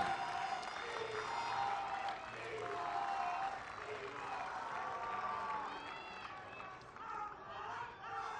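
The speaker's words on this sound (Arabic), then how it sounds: "فرحة من الجماهير" A tennis crowd at a Davis Cup match cheers and applauds in a sustained burst, a broad wash of clapping and shouting voices with a commentator talking over it throughout.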